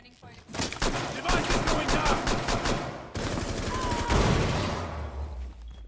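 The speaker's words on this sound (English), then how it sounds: "I don't know if they're shooting at someone." Rapid automatic gunfire rattles through a Rainbow Six Siege match, dense sustained bursts with a brief gap midway, loud and close, with a voice faintly beneath.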